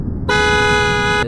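A single steady blast of a BMW X5 car horn, about one second long, loud and close, cut off sharply with no talking.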